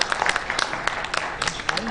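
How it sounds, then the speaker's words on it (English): A conference audience at an AI summit in Islamabad gives a round of applause, with scattered, moderately loud claps under a speaker's continuing voice. "Let's have a warm round of applause,"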